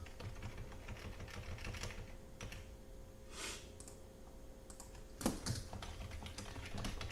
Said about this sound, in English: Actually, let's type this.